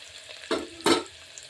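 Mutton sukka sautéing in a pan: two short stirring sizzles close together, each a brief hissing scrape over a quiet background.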